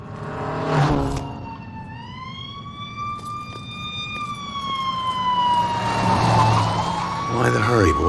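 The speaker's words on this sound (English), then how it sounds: "I think I hear sirens." Wailing sirens from emergency vehicles in the video game Murdered: Soul Suspect, rising and sweeping in pitch and steadily loud across the scene, with game sound effects around them and a voice speaking briefly.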